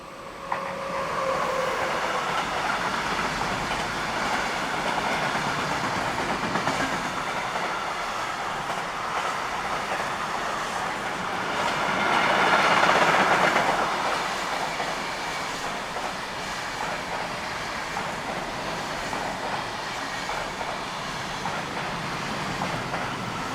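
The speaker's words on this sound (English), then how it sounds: "Heading east is 193538 on train 69261 from Hamburg to Munich." Freight train 193538 runs east from Hamburg to Munich through Hannover-Linden station with a long, steady rumble and rolling wheel noise. The sound holds throughout and swells briefly midway as the wagons pass close by.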